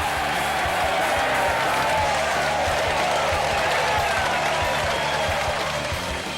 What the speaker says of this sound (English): Porg Ammon sent the home crowd wild